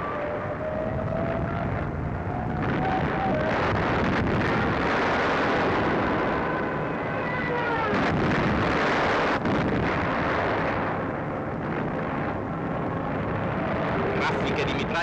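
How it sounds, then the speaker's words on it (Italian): Large-calibre bombs exploding on an airfield in wartime newsreel footage rumble as dense, continuous booming with roaring blasts and hiss, while a narrator speaks over them throughout. "Bombe di grosso calibro su di un aeroporto."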